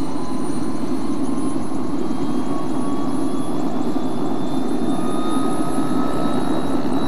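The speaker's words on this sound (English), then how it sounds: "It's an old helicopter." An old helicopter flies steadily nearby, with loud continuous rotor thrum and engine whine that stay even and unbroken throughout.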